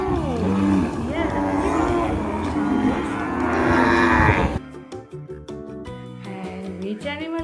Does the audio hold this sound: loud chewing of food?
no